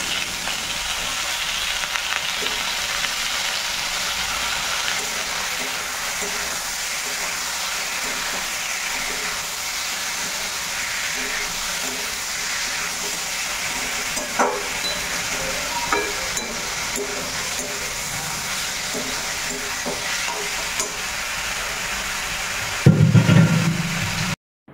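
Chicken pieces sizzle loudly in a pan over half-fried onions with ginger and garlic, a continuous crackling fry with small bursts from stirring and a louder clatter near the end; no one speaks.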